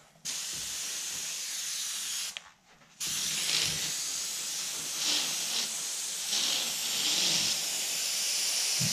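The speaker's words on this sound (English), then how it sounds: "Airbrush right along the edge." An airbrush sprays paint along the edge of ghost flames as a steady close hiss, with a brief pause near the middle before the spray resumes in a continuous stream, no voices present.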